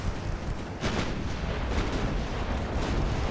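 Heavy 7.9-inch naval guns of a battleship firing in Ultimate Admiral Dreadnoughts, a dense continuous rumble of booming artillery with several louder blasts rolling together, loud and close.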